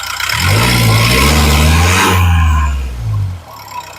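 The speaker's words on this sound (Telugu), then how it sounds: "ఒకసారి ఇంజన్ ఎక్సలేటరీ" A 2017 Renault Lodgy RXZ Stepaway engine revs hard and holds at a high, loud roar for a couple of seconds, then drops back, surges briefly and settles to idle.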